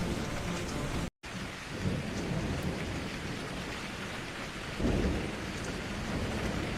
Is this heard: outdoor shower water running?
no